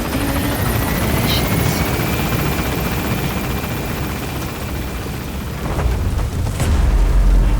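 A helicopter in the video game Metal Gear Solid V takes off and gains altitude, its loud continuous rotor thrum and turbine roar filling the clip with a rising surge near the end.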